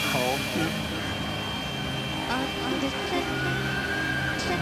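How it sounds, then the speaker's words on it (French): A Hawker Hunter jet taxiing on the tarmac in front of a hangar after landing, a loud continuous engine roar with a rising whine held throughout. "l'avion a posé, il arrive sur le tarmac devant le hangar"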